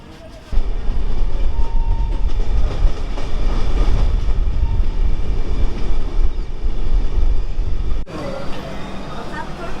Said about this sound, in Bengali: আমাদের ট্রেন এসে পৌঁছলো দুর্গাপুর।